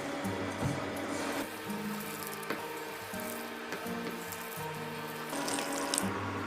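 Water pours steadily into batter for onion bajji, a continuous trickle and splash at close range with faint clinks, no voices.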